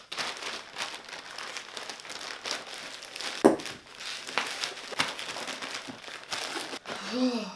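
Someone opens the plastic bag of a Fnatic gaming keyboard, and the bag crinkles and crackles steadily for several seconds, close up, with a sharper rustle partway through.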